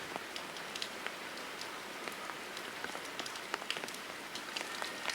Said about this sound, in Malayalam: രാവിലെ മുതൽ തന്നെ നല്ല മഴ നിലനിൽക്കുന്ന ഒരു സാഹചര്യം തന്നെയാണ്